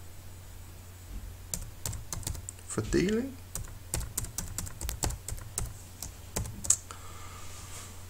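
Quick, irregular keystrokes on a computer keyboard while entering a formula in Excel, soft and close, with a brief stretch of spoken words partway through.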